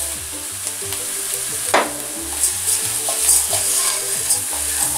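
Rice toasts with golden browned onion in a pan for a gorgonzola and prosciutto risotto, a loud continuous sizzle heard up close with repeated scraping strokes from steady stirring and a sharper clack near the middle.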